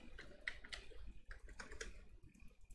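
Someone types code on a computer keyboard in a quiet room, a close, faint patter of irregular key clicks with short pauses between bursts.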